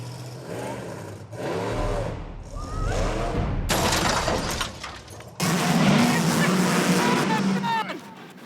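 A huge 1,600-horsepower truck engine roars and revs in several loud bursts with abrupt jumps in intensity, a heavy mechanical growl close by, with voices audible underneath.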